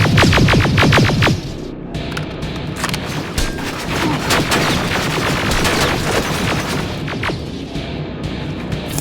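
Gunfire erupts in the video game Terminator Resistance, starting with a fast burst of loud automatic shots, then crashes, booms and scattered sharp reports in a chaotic firefight.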